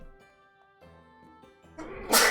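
A single sharp sneeze bursts out near the end, loud and close, after a stretch of quiet tonal game sounds.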